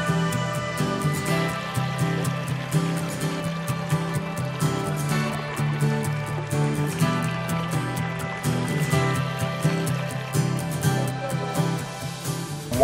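Water tumbling down a small DIY backyard garden waterfall kit into a pool, a continuous close splashing babble that stays steady the whole time.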